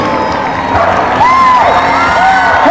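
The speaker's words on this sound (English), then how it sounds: "Start cheering, start chanting." Spectators at a K9 dog high jump competition cheer and whoop loudly, with shouts and rising excited calls, including children's voices, building through the moment.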